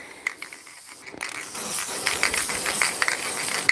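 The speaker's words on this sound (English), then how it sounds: "Spray my hand down." Case lube for reloading brass sprays in a steady close hiss for a couple of seconds onto a hand, after a few small clicks.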